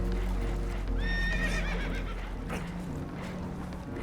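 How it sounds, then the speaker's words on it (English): Spooked horses whinny loudly aboard a boat taking on water in Red Dead Redemption 2, one shrill neigh rising over a constant low rumble of water and hull noise. "Horses are spooked, and we're taking on water."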